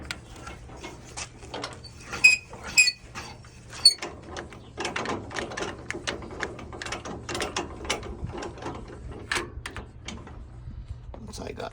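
A trailer jack is ratcheted up in a run of quick, irregular metallic clicks and clacks close by, with a few louder knocks early on and a low hum beneath.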